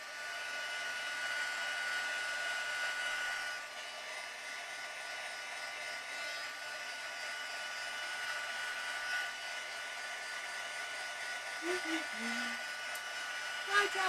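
A hair dryer blows steadily on wet drops of paint, a continuous airy whoosh at moderate level that dips slightly partway through, with faint handling noises toward the end.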